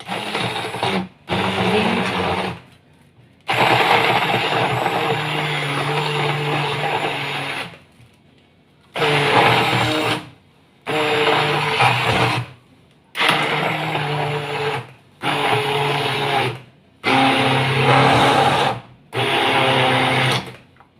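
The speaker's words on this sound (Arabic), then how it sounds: "عايزه بقى تحطيها في الخلاط في الكبه." A blender whirs loudly in repeated bursts while blending cottage cheese, one long run followed by several short pulses separated by brief silences.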